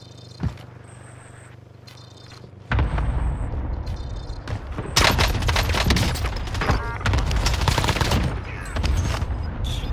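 Heavy sustained gunfire and explosions on Rebirth Island in Call of Duty Warzone, starting quiet with a few beeps, then erupting into loud continuous shooting and blasts for several seconds.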